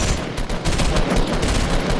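Dense automatic gunfire in a Fortnite match, near and loud, sustained rapid bursts filling the whole stretch with no voices.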